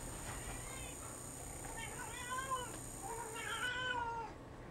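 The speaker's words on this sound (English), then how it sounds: "This movie upset my cat so much, it's yowling right now." A house cat yowls indoors, several drawn-out wavering cries rising and falling in quick succession over a steady background hum, fairly near but not loud.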